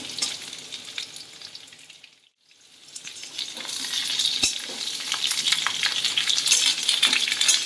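Vegetable stalks tossed into a hot pan for a Bengali mixed vegetable curry, a short lull before a loud, bright, steady sizzle swells up and continues with faint stirring clatter.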